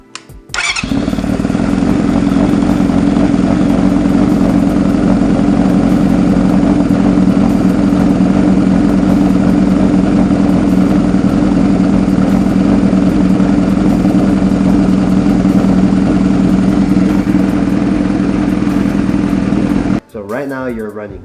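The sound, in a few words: cafe racer motorcycle engine idling, possible air leak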